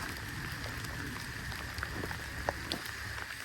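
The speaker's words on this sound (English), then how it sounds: "it's raining today" Rain falling outdoors among trees, a steady dense hiss with scattered louder drips and taps, no talk over it.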